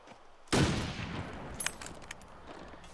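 A single loud rifle shot in The Long Dark cracks out suddenly and then trails into a long fading echo, with a few faint clicks afterward.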